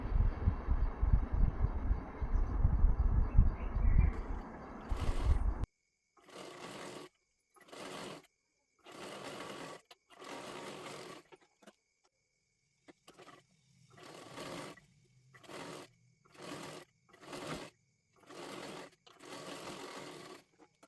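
A domestic sewing machine stitches a fabric strip onto a puffed sleeve, opening with one steady, close run of rapid needle strokes, then continuing in a series of short, evenly spaced bursts separated by brief pauses.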